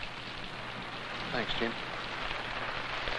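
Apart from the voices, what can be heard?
rain starting to fall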